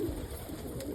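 Pigeons, including Birmingham rollers and Indian fantails, coo softly and steadily in a loft while being fed greens, low murmuring calls running through the whole second at a moderate distance.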